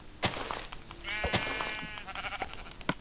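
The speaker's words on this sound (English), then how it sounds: "But first, let me kill the sheep." Sheep bleats from the video game Minecraft, a few wavering, harmonic baas in quick succession, close and clear over faint game sounds with sharp clicks.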